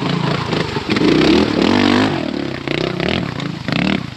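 Trials motorbikes climb a slope off-road, engines revving up sharply in bursts and dropping back, loud and close, with some clatter and scraping mixed in and no talk.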